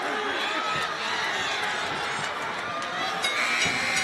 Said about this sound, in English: Crowd urging these fighters to finish strong.